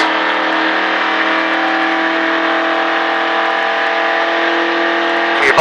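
A NASCAR race car accelerating on a track at the Richard Petty Driving Experience gives a loud, close, steady engine roar that holds a constant drone, with a sharp burst of noise right at the end.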